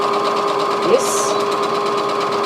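A Brother SE400 embroidery sewing machine runs steadily nearby, its fast mechanical whir holding an even rhythm, with one faint clonk partway through.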